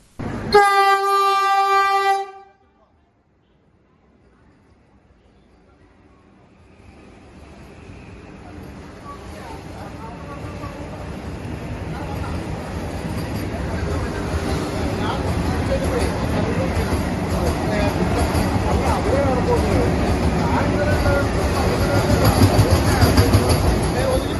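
A loud train horn blasts briefly at a railway station in Aluva, Kerala, then the train's rumble and rolling clatter build steadily louder as it approaches and passes close by.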